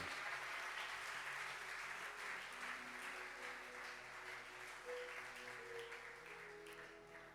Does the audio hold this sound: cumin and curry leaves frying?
no